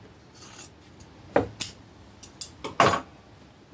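Scissors snip through flannel fabric in a few sharp, irregular cuts, some in quick pairs, close and fairly quiet with no talking.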